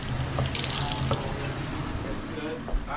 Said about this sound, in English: so the tub and sink have been running upstairs